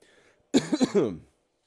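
A short burst of throat-clearing coughs, three or four quick rough pulses close to the mic, then silence.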